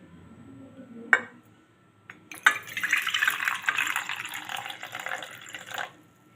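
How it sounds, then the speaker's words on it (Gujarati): Water poured from a bowl into an iron pan (kadai) for making khichu, a clear splashing pour after a brief clink, running steadily for a few seconds before tapering off. "તો 3 વાટકી પાણી નાખી લો।"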